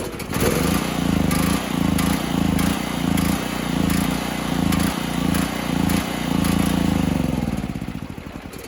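Generac XG7000E portable generator being cranked by its electric starter with the choke on, a loud, steady rhythmic churning from the engine close by that fades near the end without catching.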